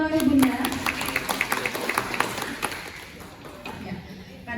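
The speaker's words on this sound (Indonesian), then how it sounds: "Boleh tepuk tangan dulu ya Bunda." Scattered audience clapping at a parenting seminar for an elementary school in Bandung, uneven and fading after a few seconds, with a voice speaking at the start.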